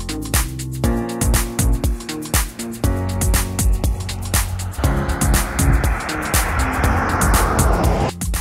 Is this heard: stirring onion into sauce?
no